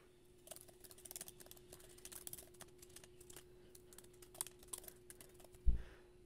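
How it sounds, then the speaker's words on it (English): Light, fast key clicks from a computer keyboard as a name is typed into an app, quiet and close in short irregular bursts, ending with one heavier thump, with no voices over it. "We're going to have to type in the name."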